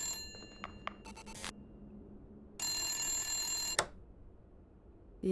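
Inside the video game The Suicide of Rachel Foster, an old telephone rings in short bursts, a bright, trilling bell that stops and starts again, moderately loud against a quiet room tone.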